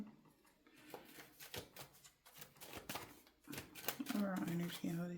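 Tarot cards shuffled by hand in quick, papery riffles and taps, a run of close, soft rattling bursts that grows busier toward the end.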